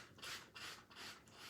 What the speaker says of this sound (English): The sandpaper actually is cleaning it too.